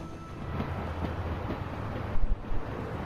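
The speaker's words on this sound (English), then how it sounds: "We need to stop this train." A train rolls along in The Walking Dead video game: a low, continuous rumble with rhythmic clatter, then a couple of louder jolts near the end.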